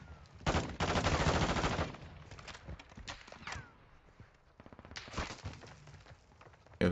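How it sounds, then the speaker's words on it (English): Video game gunfire cracks in dense rapid bursts, loud and close at first, then trailing into scattered shots before a second heavy volley and a final sharp blast. "Yo, who's shooting?"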